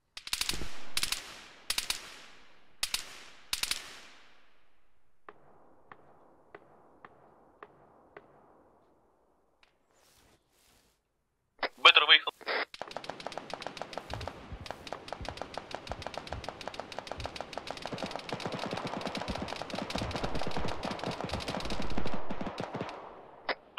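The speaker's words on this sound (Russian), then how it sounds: "Пошел стрелять опять." Arma 3 weapon fire: a few sharp single shots early, a quieter distant rattle, then a long sustained burst of rapid machine gun fire, close and crackling for over ten seconds.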